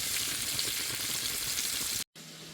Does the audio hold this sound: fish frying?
yes